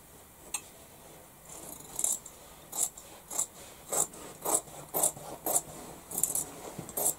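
Scissors cut fabric for a baby's bath cape along a folded edge, giving a series of crisp, rhythmic snips that grow steadier and more regular, close and fairly quiet with no talking.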